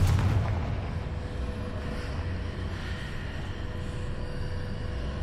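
A Confringo blasting spell in the video game Hogwarts Legacy sets off one loud booming explosion at the start. A long rumbling roar follows and slowly fades into a steady low background.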